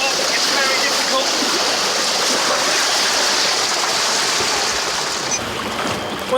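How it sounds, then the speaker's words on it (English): A car plunges from a big drop straight into water and sinks, producing a loud, continuous churning roar of rushing water that barely eases throughout. "we're going in from a big drop this time. Straight in the water."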